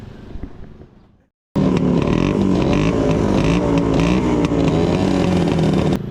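An old two-stroke motorcycle engine runs loud and close, a buzzing, uneven idle with wavering revs that cuts in abruptly after a faint lead-in and holds for several seconds.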